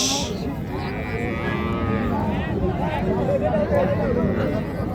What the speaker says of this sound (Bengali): এখানে একটা খুবই সুন্দর একটা গাভী দেখতেছি আমরা শাহিওয়াল জাতের